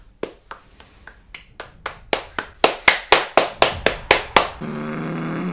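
Hands clap about fourteen times during a FIFA 18 pack opening, the sharp claps growing louder and slightly faster before a sustained game tone takes over.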